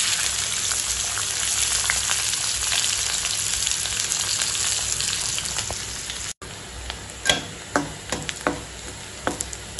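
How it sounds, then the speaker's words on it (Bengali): Onions frying in hot oil with bay leaf, a loud steady sizzle close by that later thins out, followed by several sharp crackles and spatters as the pan settles. "পেঁয়াজটা আমার হালকা লাল লাল ভাজা হয়ে যাচ্ছে"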